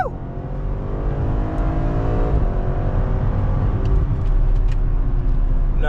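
A BMW X5M fitted with catless downpipes accelerates hard up an on-ramp, its loud, close exhaust climbing in pitch through one gear, dropping briefly at the shift, then pulling on with a deep, rising roar.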